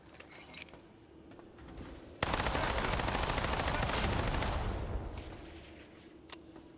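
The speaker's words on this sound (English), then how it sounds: "It's a ceiling gun that actually shoots me and manages to kill me" A ceiling-mounted gun in the System Shock Remake video game opens fire in a loud, sustained automatic burst lasting a few seconds, then tails off, with scattered mechanical clicks before and after.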